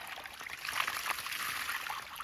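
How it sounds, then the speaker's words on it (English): Water gushes from a running pump's hose and splashes onto a garage floor, a faint steady hiss of pouring with small surges. "we got that pump running. It is definitely moving some water."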